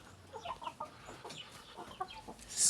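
Farm chickens cluck and chatter in short, uneven bursts close by, several birds calling over a quiet background with a louder rustle at the end.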